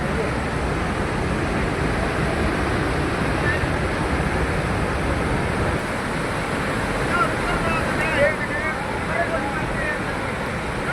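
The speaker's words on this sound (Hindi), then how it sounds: "ढलान होने की वजह से कुछ सारा पानी नीचे की तरफ जा रहा है" Cloudburst floodwater roaring down a steep slope in Himachal Pradesh, a dense, continuous rushing wash that stays steady and loud throughout, with wind buffeting the microphone.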